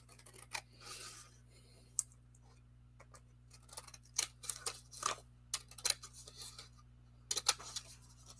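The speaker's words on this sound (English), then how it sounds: "I think I got it better with scissors." Scissors cutting a paper border for a Graphic 45 Little Things card: faint, scattered snips and rasping paper sounds in short irregular bursts over a quiet steady hum, close by.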